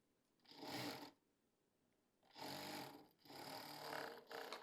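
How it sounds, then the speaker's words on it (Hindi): A sewing machine stitches a strip onto a hooded winter jacket in bursts: a one-second run, a pause, then two longer runs close together, loud and near with no talking. "अब यहाँ पर सिलाई लगा देंगे।"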